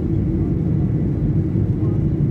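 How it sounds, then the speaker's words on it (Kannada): A passenger jet departing Dubai speeds down the runway on its takeoff roll. Heard from inside the cabin, it makes a deep, steady engine roar and low rumble that stays loud and constant throughout. "ಫ್ಲೈಟ್ ಸಿಕ್ಕಾಪಟ್ಟೆ ಸ್ಪೀಡ್ ಆಗ್ತಾ ಇದೆ. ಸಿಕ್ಕಾಪಟ್ಟೆ ಅಂದರೆ ಸಿಕ್ಕಾಪಟ್ಟೆ ಸ್ಪೀಡ್."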